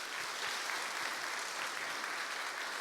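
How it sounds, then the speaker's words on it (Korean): A church congregation applauds at a Korean thanksgiving Sunday festival service, a steady wash of many hands clapping together, distant and fairly soft, continuous throughout with no voices. "우선 서로를 위해서 박수 한번 보내시죠."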